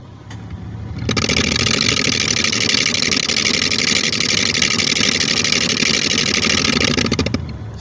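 Blower motor of an Infiniti G35 with the air switched on, a steady whooshing fan roar that starts abruptly about a second in, holds loud and even, then cuts off near the end; no talking.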